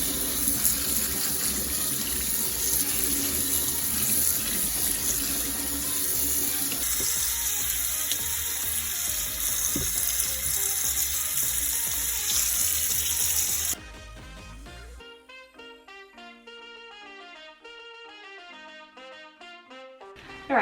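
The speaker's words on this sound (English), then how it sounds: "I just got back from washing out my strawberries. I gave them a very good washing." Tap water runs steadily into a kitchen sink while strawberries are washed, a loud constant splashing rush that stops abruptly partway through, leaving only faint background music.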